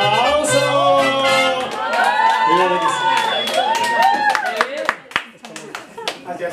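Applause from guests at a birthday celebration with a mariachi band, hand claps building into a steady round under lively talk and cheering before fading into scattered claps.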